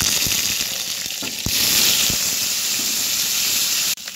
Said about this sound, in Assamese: পনীৰখিনি অকমান ভাজি লওঁ